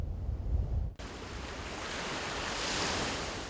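Ocean surf washes onto a sandy beach at a seaside village in Palanan, on northeastern Luzon in the Philippines. A loud, steady roar of waves mixes with wind buffeting the microphone, and no one speaks.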